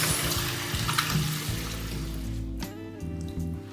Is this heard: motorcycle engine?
no